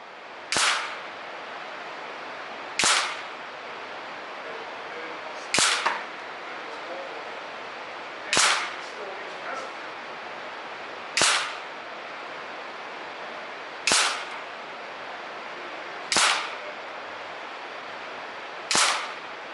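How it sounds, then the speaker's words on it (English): Daystate AirWolf MCT air rifle firing eight single shots at a steady pace a few seconds apart, each a sharp crisp crack standing out over a quiet outdoor background. "First up is Shooter 1 firing 10 rounds from the Daystate"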